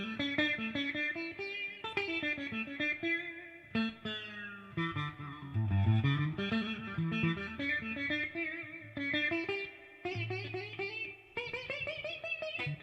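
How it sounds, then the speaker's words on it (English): A Rogue electric coral sitar run through effects, playing a continuous buzzy, twangy melodic line with bright sitar-like drone and rich overtones, steady and prominent with no talking. "This is a copy of a choral sitar. It's made by Rogue."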